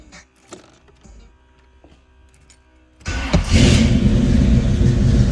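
A 1984 Oldsmobile Cutlass Supreme with a swapped Vortec engine, fed by an electric fuel pump, cranks briefly after a quiet stretch of faint clicks, then fires and settles into a loud, steady idle close by.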